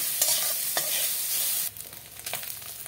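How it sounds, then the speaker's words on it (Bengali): Grated coconut fries with a steady sizzle and a few scraping stirs of a spatula in a pan, dropping to a quieter crackle partway through. "আমি ভেজে দেবো নারকেলটাকে"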